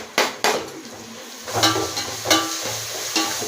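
Onions fry in a pan for Hyderabad-style dum biryani, with a soft sizzle under several sharp spatula clanks and scrapes against the metal at irregular intervals.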